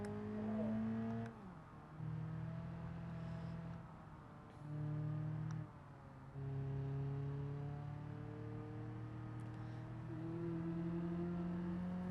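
A car drives laps on a track, its engine rising in pitch through repeated accelerations with brief dips between gear changes, a steady close drone lasting several seconds without talk.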